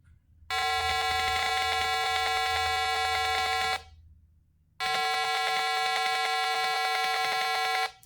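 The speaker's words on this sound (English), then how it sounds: "this buzzer will generate some different kind of audio" An Arduino buzzer driven by a 150 Hz square wave in simulation, producing two long, loud, harsh buzzing tones of about three seconds each, separated by a brief silence.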